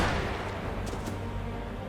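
Gunfire in a Mount & Blade Warband mod comes as a dull booming discharge followed by rumbling, with a couple of brief sharp reports, loud and close amid continuous battle noise.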